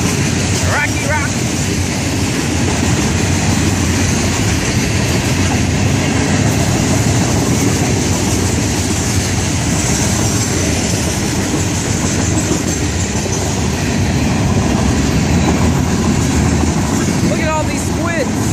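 An FEC freight train, number 202 with locomotive 1592, rumbles past on the rails in a loud continuous roar with rhythmic wheel clatter and a brief horn-like tone near the start and end, heard close by.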